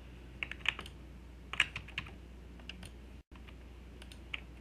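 Sharp, quiet clicks of a computer mouse while drafting in SolidWorks, a handful of irregular taps spaced across a faint, steady background hum.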